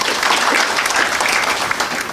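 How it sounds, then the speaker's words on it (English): Conference audience applause at a national border management conference, a brief, dense burst of many hands clapping at once, fairly loud and even throughout. "Another round of applause, kindly."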